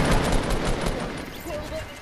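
Rapid Fortnite gunfire crackles through a squad match, a dense run of shots under players' voices.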